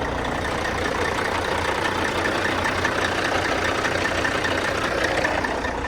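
A Kenworth truck engine idles in a steady, unbroken low rumble that holds at an even level from start to finish, with no voices over it.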